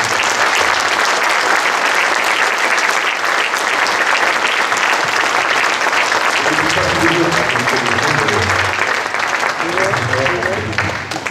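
An audience at a political rally applauds in sustained, dense clapping that stays loud throughout, with some voices rising through the crowd noise toward the end.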